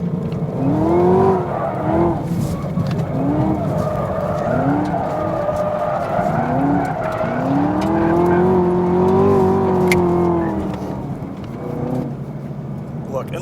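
A 2017 Chevy Camaro ZL1 accelerating hard on a tight racetrack, engine roaring loud and close with rising and falling revs through gear changes and a hint of tire squeal, under a voice talking.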